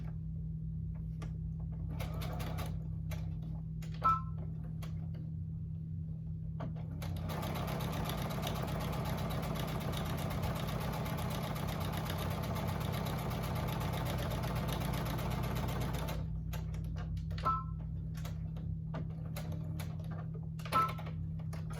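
A domestic sewing machine chain stitches wallet pieces together: a low steady motor hum runs throughout, swelling into a longer fast run of stitching in the middle, with a few faint clicks and a sparse start and finish.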